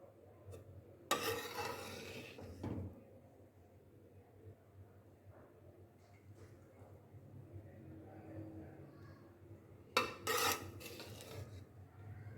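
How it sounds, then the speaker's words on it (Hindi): Sweet zarda rice being served from a pot into a dish: a spoon scrapes and rubs against the pot in two bursts, one near the start and one near the end, with soft clinks and quiet handling sounds in between. "अब इसको डिश आउट करते हैं"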